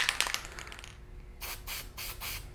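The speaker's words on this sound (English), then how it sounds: "lightly spray this on both sides" Sealant is sprayed onto an engine gasket during a BMW M52 stroker engine build: soft rubbing first, then three or four short, close hissing spray bursts in quick succession.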